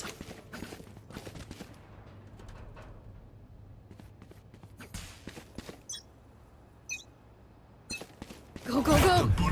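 Gunfire in a Valorant match: scattered sharp shots and bursts ring out over a steady low background hum, growing into a louder, denser stretch of noise near the end.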